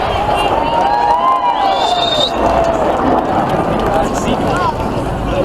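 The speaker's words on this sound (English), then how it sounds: "Let's have a big cheer." Spectators at the Jersey International Air Display cheer and whoop in a dense, continuous crowd roar, with wind noise and a voice speaking over the din.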